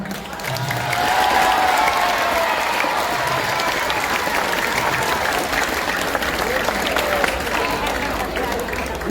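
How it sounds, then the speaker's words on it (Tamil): Sustained audience applause at a school Tamil literary gathering in Chinthamani, Villupuram district, honoring a former headmistress, steady dense clapping from a large crowd over about nine seconds with faint voices underneath. "எல்லாருமே நல்ல கரகோஷம் நடத்தலாம்"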